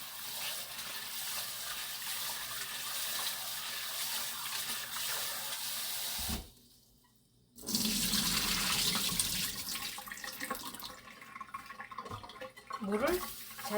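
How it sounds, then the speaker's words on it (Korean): Running tap water gushes steadily as cucumber and bellflower root are rinsed in a kitchen sink, broken by a brief pause before the splashing flow resumes and varies. "물에다가 한번 헹궈 줄게요."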